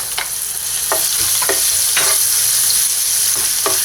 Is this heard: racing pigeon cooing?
no